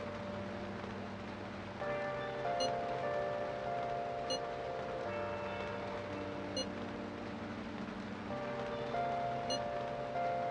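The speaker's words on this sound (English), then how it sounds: "Ooh, and it's raining." Rain falls in the Persona 5 video game as a soft, steady hiss that runs through the whole clip, quiet and far, under game music with chiming, bell-like tones.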